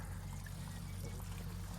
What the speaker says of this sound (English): Some amount of water running through there.